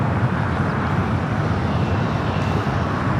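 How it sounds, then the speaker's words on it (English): Boeing 787-9 Dreamliner taking off from LAX, a loud, continuous jet engine roar with broad rumbling noise and no talk over it. "taking off to Osaka on the 787-9 Dreamliner"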